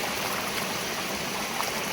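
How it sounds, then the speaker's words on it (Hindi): A stream of rainwater rushes down a village path in the hills of Uttarakhand during heavy rain, a steady close gushing and splashing that stays constant with no speech. "ये पूरा झरना सा बह रहा है यहाँ पे"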